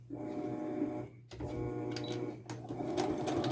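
A sewing machine stitches down the other edge of a fabric snap bag, running in a steady continuous hum with a brief pause midway before resuming.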